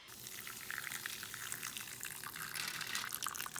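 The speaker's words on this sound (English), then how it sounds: "Pour in the hot water over top just so that it gets covered." Hot water pours over tarnished silver jewelry laid in baking soda on aluminum foil, a steady hissing splash that runs close and unbroken for several seconds.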